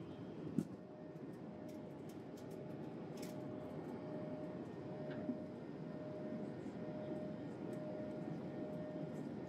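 Steady, unbroken cabin roar of a passenger airplane in flight, a broad even rumble holding at the same level throughout with a faint constant tone and a couple of small clicks, no talking.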